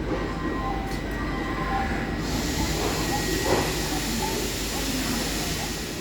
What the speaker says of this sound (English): Mangalore Trivandrum Express is departing from platform number 2.